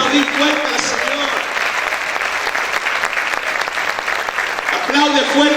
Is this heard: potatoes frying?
no